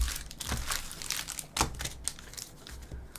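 Game cards being shuffled up close for a live card battle, giving brief papery riffles and crinkles in a rapid, uneven run with no talk over them.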